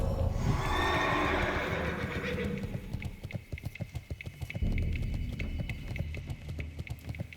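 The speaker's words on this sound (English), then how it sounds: "can we get on a horse?" A horse mount whinnies loudly in World of Warcraft Classic at the start, then its hooves clip-clop in a steady rhythm, with a brief rise in volume midway.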